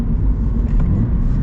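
A manual Toyota 86 sports car engine rumbles loud and close as the driver downshifts with a rev match, a short low drone with a slight rise and fall in pitch.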